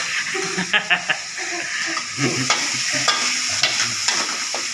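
Onion, tomato and garlic sautéing in a pan, with a steady frying hiss and sizzle under intermittent scraping and stirring knocks, close by, with voices speaking over it.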